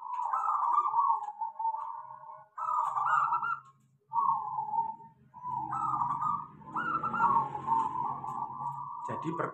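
A caged zebra dove (perkutut) coos in soft, rolling phrases separated by short gaps, close and clear, with someone speaking quietly underneath in places.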